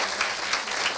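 Applause from the audience at a women's missionary congress, honoring the men who cooked, a brief steady wash of clapping from many hands.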